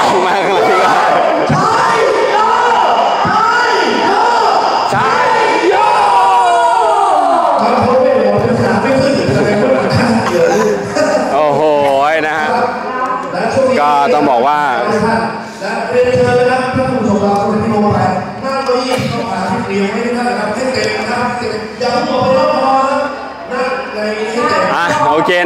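Loud crowd noise fills a packed hall at a company's second-anniversary celebration attended by over a thousand businesspeople, a dense continuous roar of cheering and voices with music-like tones running throughout.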